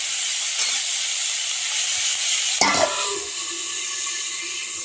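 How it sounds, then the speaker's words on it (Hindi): Salted spice masala for cauliflower curry hissing in a hot pan while being stirred, a steady steamy sizzle broken by one sharp metallic clack partway through before it settles back down. "अब हम इसको चला करके और ढक देंगे।"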